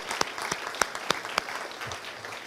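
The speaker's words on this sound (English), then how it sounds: "First, a round of applause for Linda Hall and her catering, please." Clapping from the audience at a city's State of the City address fills the room, a steady patter of many hands with a few louder individual claps standing out, then gently tapering at the end.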